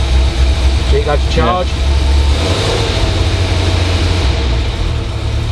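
A Buick engine with a generator being tested runs with a steady, close low rumble and rises slightly as it is revved, while people talk briefly over it.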